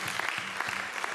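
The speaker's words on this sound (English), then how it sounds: "Just give a round of applause to the Lord" A church congregation at an anniversary and birthday celebration gives a brief round of applause, dense clapping with no voices over it.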